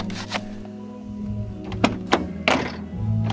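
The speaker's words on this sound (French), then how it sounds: "Vu le bruit, on dirait bien qu'il y a du monde dans cette porte." The door of a BMW 325ti is worked and shut, giving several dull thunks and knocks with rattling from loose parts inside, plus a whirring power-window motor near the end.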